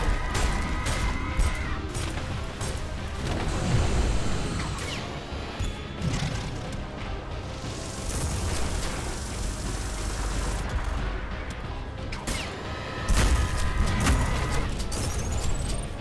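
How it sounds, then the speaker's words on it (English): Rocket launcher blasts and other weapon fire in the fast shooter video game ULTRAKILL, a dense steady barrage of crashes and booms with sharp impacts running under game music and effects. "I didn't mean to pull out the rocket launcher."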